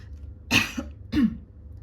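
Two short, sharp coughs close to the microphone, about half a second apart, with quiet between.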